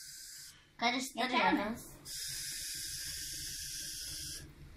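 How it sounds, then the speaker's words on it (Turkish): Shaving foam sprayed from a can for homemade slime: a brief spray hiss, then a steady, fairly loud hiss lasting about two and a half seconds, after a short spoken phrase. "Tıraş köpüğü katacağız şimdi."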